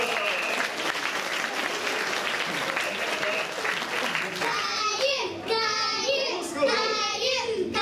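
Audience applause at Turtle Talk in Tokyo DisneySea, strong continuous clapping from a crowd with children's voices mixed in, while a bright animated voice and music-like tones rise over it toward the end.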